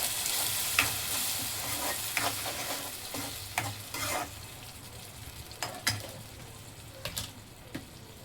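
Masala for crab curry is stirred in a frying pan with a spatula, giving repeated scraping strokes over a low, steady frying hiss that is close and fairly quiet, with no talking.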